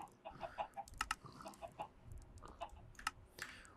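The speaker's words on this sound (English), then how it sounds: "Those chickens are freaking loud" Chickens cluck in a Minecraft modpack (Vaslhelsia 3) with a run of short, sharp clucks at an uneven rhythm over faint, clicky background noise, fairly close and moderately loud, with no talking.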